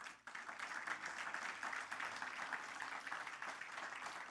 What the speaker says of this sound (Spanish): demos palmas al Señor.